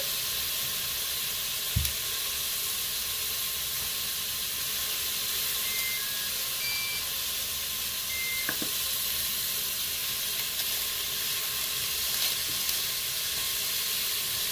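Frozen smoked pork belly sizzles in a Cookeo, a steady soft hiss with a faint thump and a few small crackles.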